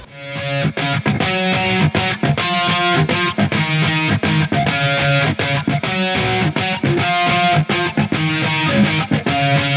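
A distorted electric guitar plays a pop punk lead melody in octaves over a loud, pulsing rhythm, busy and continuous throughout.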